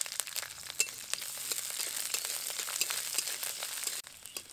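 Chopped onions frying in oil with mustard seeds and curry leaves for sambar, a faint crackling sizzle with scattered sharp pops and clicks, no talking.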